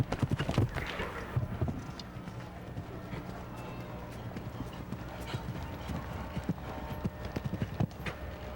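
Hooves of a show-jumping horse on course at Spruce Meadows, a steady clip-clop of strides with occasional heavier thuds, moderately close over a murmur of background crowd noise.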